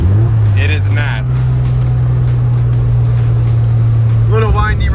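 A car engine runs with a steady, loud low drone while driving on winding roads, holding an even note throughout, with people talking over it.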